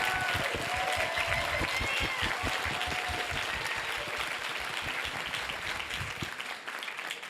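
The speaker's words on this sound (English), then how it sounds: "Can we give her a round of applause?" An audience at a trivia bee event breaks into steady, moderately loud applause that holds for several seconds before trailing off abruptly near the end.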